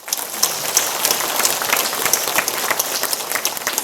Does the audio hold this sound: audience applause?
yes